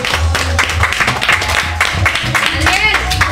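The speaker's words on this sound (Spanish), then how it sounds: "El siguiente aplauso." Brief rounds of clapping at a child's fourth birthday party in Siguatepeque, mixed with lively voices and background chatter, fairly close and loud.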